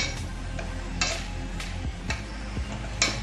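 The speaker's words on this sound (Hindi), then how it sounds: "एक मैशर की हेल्प से आप सब्जियों को मैश कर लेंगे इस तरह से कुकर में ही" Boiled vegetables for pav bhaji being mashed with a hand masher inside a pressure cooker, giving soft squelching thuds and scraping at an irregular rhythm, close and moderately loud with no talking.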